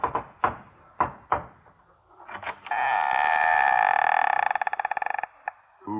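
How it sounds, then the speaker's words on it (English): Knocking on a boiler room door: four firm knocks, a pause, a few more raps, followed by a long buzzing, droning whistle-like tone that stutters off, in an old radio-drama setting. "I arrived after lunch and knocked."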